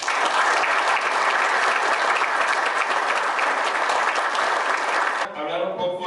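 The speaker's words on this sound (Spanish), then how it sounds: "licenciado Enrique Serrano Escobar, a quien pido de nuevo un fuerte aplauso." Loud, sustained audience applause fills a meeting with personnel-transport operators from the maquiladora industry, steady for about five seconds before fading into a quieter room.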